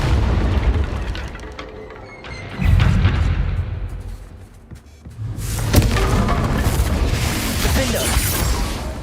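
Confringo explosive spell blasts in the Hogwarts Legacy video game, loud booming bursts over sustained rumbling combat noise, with a few sharp hits.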